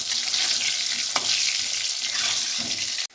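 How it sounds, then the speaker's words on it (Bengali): Potatoes frying in a pan with salt and turmeric, a steady close sizzle and crackle running throughout, with a brief stir partway and a sudden cut at the end. "সামান্য নুন আর সামান্য হলুদ গুঁড়ো দিয়ে একটু আলুগুলোকে আমি লাল লাল করে ভেজে নিই।"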